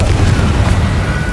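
A Confringo spell explodes in the video game Hogwarts Legacy, a dense low rumbling blast that fills the whole moment, loud and close, with no voices over it.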